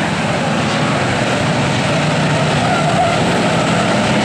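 Eight-cylinder enduro race cars racing at Riverhead Raceway in New York, a loud, unbroken roar of many engines blending into a dense, constant wash of noise.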